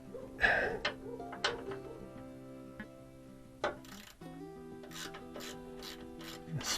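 Ratchet wrench spinning a 13 mm bolt off the ABS system of a GMC Yukon, Chevy Tahoe or Silverado, giving close, light metallic clicking bursts with brief scraping and tonal ringing between them, no talking.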